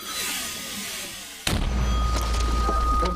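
A 120mm mortar fires near Bakhmut, one sudden loud boom cutting through quiet field ambience and leaving a rumbling tail.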